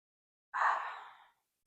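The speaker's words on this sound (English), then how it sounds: "Just breathing." A single long exhale during a yoga stretch, a soft breathy sigh that rises quickly and tapers off over about a second, close and alone in a quiet room.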